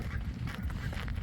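Geese or ducks at a waterside spot in Helsinki honk and quack in a loose cluster of calls, faint and somewhat distant, over low background rumble.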